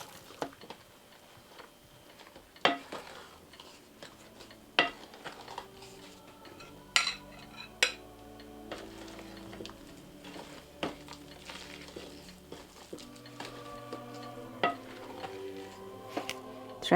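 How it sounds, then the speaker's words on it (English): Spoon stirring flour mixture into cake batter in a home kitchen, with soft scraping and scattered sharp clinks of the spoon against the bowl, spaced irregularly and fairly faint, alongside occasional light tones. "you mix it in bit by bit. You start adding in a spoonful of the flour mixture."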